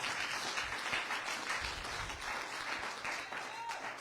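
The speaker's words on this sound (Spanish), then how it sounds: "Dale un aplauso al que vive y reina para siempre." Steady applause from a church congregation during a sermon, a continuous spread of clapping across the room with faint voices beneath it.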